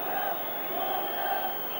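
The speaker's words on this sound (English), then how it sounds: "loud crowd here." Steady roar of a football stadium crowd at an Everton v Manchester United League Cup fourth-round match, a dense continuous wash of many voices at moderate level with no single voice standing out.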